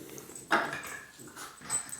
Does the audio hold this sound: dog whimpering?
yes